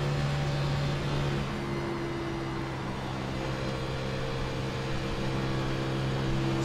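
Engine of a vintage Grand National race car on track, a loud continuous droning hum with steady tones that shift slightly in pitch as the throttle changes, heard close and alone without talking.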